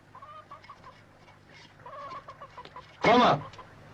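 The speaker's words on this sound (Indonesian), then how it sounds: "Lari itu ayam." Chickens cluck in a rural setting with soft, repeated low calls, then one bird lets out a sudden loud squawk near the end.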